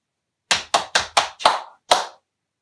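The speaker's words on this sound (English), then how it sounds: "When we get the chicky chicky cha cha, we clap our hands." Six sharp claps ring out alone, close and bright, as children keep a beat in a primary-school music lesson; the first four come quickly and evenly spaced, and the last two follow after short pauses.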